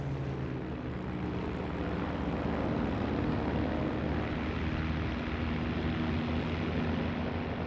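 A Spitfire fighter's piston engine drones steadily, a continuous loud propeller-aircraft roar with a low harmonic hum that holds constant throughout, no talk.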